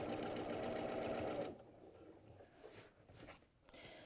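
A sewing machine stitches cushion fabric in a fast, loud, even whirr for about a second and a half, then stops, leaving faint handling noises.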